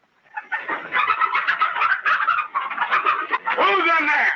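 Chickens clucking and squawking in a busy, continuous burst, close and loud, with a rising cackle near the end.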